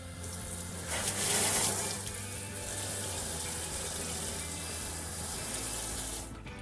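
Tap water rushes steadily through the diverter of a Panasonic TK-AS41 alkaline ionizer, a close, continuous hiss and splash that swells briefly before settling and stopping near the end, with no talking.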